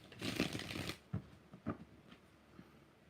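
Tarot cards are shuffled close by, one long riffle followed by a few short taps as the deck settles, with no talk.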